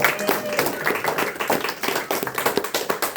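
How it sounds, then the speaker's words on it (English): A round of applause from the audience at a talk on the history of Mackinaw fudgies, loud, close, rapid clapping with distinct sharp hand strikes and some voices mixed in. "Give a round of applause for Miss Megan Flynn."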